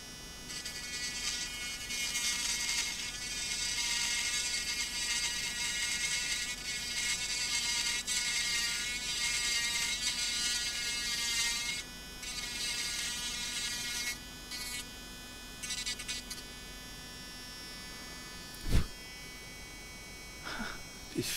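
A Dremel Stylo+ rotary tool runs continuously with a high, thin whine that wavers slightly as it works, close up, with brief dips and a sharp knock near the end.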